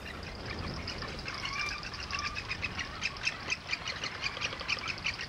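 Magnificent frigatebirds calling at a breeding colony on the Abrolhos islands off Brazil, a steady mass of chattering, squawking bird cries over an outdoor wash, growing busier and more rhythmic toward the end.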